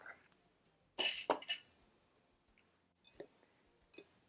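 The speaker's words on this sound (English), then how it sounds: "Then a 1/2 teaspoon of cinnamon, I'm going to stir this all together." A spoon stirring salt and cinnamon together in a bowl, heard as a quick cluster of bright clinks around one second, then a few fainter taps later against near silence.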